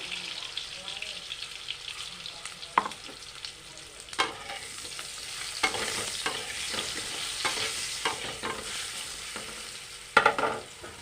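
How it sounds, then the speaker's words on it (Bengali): Potatoes fry in hot oil for a Bengali fish-head curry with green banana, giving a steady close sizzle broken by sharp clatters of a spatula stirring in the pan. "এই তেলে আমি আলুগুলি ভালো করে ভেজে নেব"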